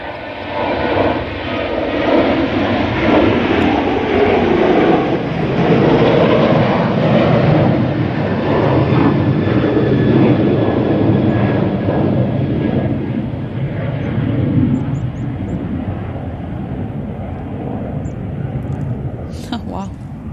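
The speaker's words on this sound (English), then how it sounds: "the Emirates 777 to Dubai has lined up, ready to go after" An Emirates Boeing 777 bound for Dubai takes off with a loud, sustained jet-engine roar that holds for most of the stretch and then slowly fades as it climbs away.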